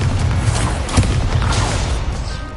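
A Confringo blasting spell explodes in Hogwarts Legacy, a loud, dense burst of crackling noise with heavy low rumble that holds steady for a couple of seconds, a sharper crack near the middle.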